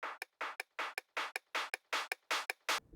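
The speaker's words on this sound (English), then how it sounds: "another small clap" A small clap sample for a melodic dubstep build-up, repeated as eight even, crisp hits in a steady quarter-note rhythm, each short and bright with a quick decay, alone and dry without any voices.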